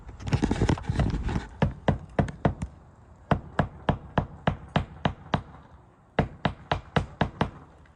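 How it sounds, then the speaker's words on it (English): Sharp, steady hammer blows drive nails into roof shingles in quick succession, a dense flurry at first, then evenly spaced knocks continuing nearby. "I'm going to be using a hammer and nail"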